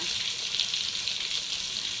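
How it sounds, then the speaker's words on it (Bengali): Eggplant slices fry slowly in oil in a pan in a Bengali home kitchen, giving a steady, close, even sizzle with no voices. "আস্তে আস্তে ভাজবো, বেশি জোরে দেবো না ডাল।"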